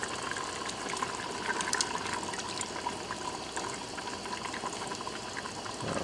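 Coconut milk pours into a pot of massaman curry with a soft, continuous liquid rush and faint bubbling, steady throughout with no talking.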